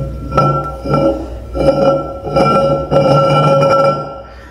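Several glass clinks and rings ring out as a recycled glass home-goods item is handled, spaced in uneven bursts, close and fairly loud with no talking.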